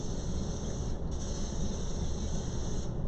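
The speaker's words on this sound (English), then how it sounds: "I'm just gonna spray it with some nonstick spray." Nonstick cooking spray hisses from a can onto a pancake pan heating on the stove, a close, continuous hiss of about three seconds.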